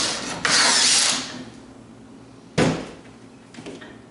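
A power drill drives a tek screw through a pre-drilled hole into the bracket of a sander fitted with a barrel taper tool, giving two short loud whirring bursts close by, the first about a second long and the second briefer.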